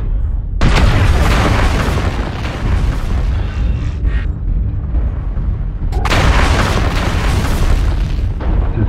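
Twin Trebuchet 7K light particle projector cannons fire in a video game, each discharge a loud sustained roaring boom; two long blasts fill the clip with a brief dip between them.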